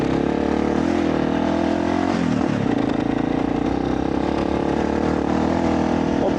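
A motorcycle engine drones steadily while riding on a long road toward Patagonia, Argentina, a continuous loud rumble with wind noise and a brief dip in pitch midway, as if shifting gears.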